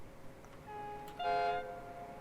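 An LNER Azuma train on the East Coast Main Line runs through a tunnel, a steady echoing rumble with sustained horn-like tones that swell briefly in the middle before easing off.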